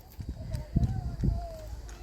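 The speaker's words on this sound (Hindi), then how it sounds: "ये देख सकते हैं सामने कौटड़ी भाग रही हैं" Buffalo calves running on a farm, a few heavy, irregular hoof thuds passing nearby over a low engine rumble, with someone talking over the sound.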